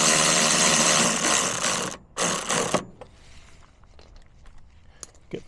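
Power tool driving and tightening bolts on Cybertruck running boards, a loud continuous whir for about two seconds, then a short second burst, followed by faint clicks and handling sounds.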